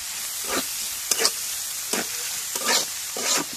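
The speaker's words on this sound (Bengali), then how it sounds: "তো এখন একটু নাড়া দিয়ে দিই।" A spatula stirs garlic and onion frying in oil in a wok, producing a continuous hiss with rhythmic scraping sweeps roughly every second.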